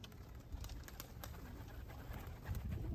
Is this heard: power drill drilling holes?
no